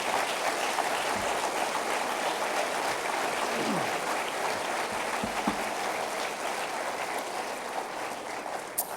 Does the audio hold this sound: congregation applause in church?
yes